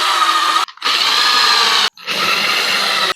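A cordless drill with a Phillips bit drives 3/4 inch screws into a wooden table saw crosscut sled, three loud sustained whirring bursts separated by brief pauses, close up with no talk.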